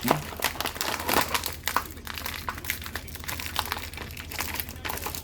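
A Kamen Rider Revice trading card pack is torn open and its foil crinkles in quick, close bursts of crumpling and rustling, under a steady low hum.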